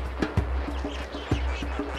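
Flamingos at Lake Nakuru in Kenya give a busy chorus of short, nasal, goose-like honks in quick irregular bursts, moderately close over a low steady rumble, with no people talking.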